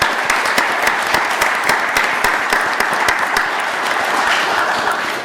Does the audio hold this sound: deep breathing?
no